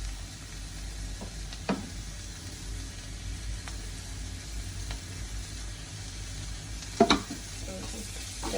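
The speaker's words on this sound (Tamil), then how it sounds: "அந்த போஞ்சியும் எல்லாம் வதங்கி வந்துட்டு" Green beans sauté in a pan with a faint, steady sizzle throughout, broken by a few sharp scrapes of a spoon stirring against the pan.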